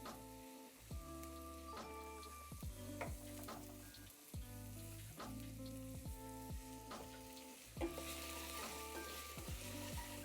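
Sliced mushrooms sizzle and fry in olive oil in a pan, a steady close crackle with repeated scraping stir strokes and clatter throughout, no voices.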